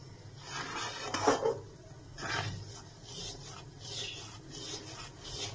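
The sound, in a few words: stirring palm pulp in a wok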